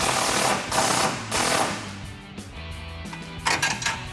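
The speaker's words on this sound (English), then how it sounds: "So we're gonna grab our 14mm wrench to hold the backside and our impact with 14mm socket and tighten that down." A pneumatic impact wrench with a 14mm socket tightens exhaust hardware on an EcoBoost F-150 in short, loud rattling bursts, with a few clinks and pauses between them.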